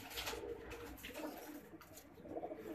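A breeder's pigeon coos softly in a few low, throaty bursts, faint and close against a quiet background.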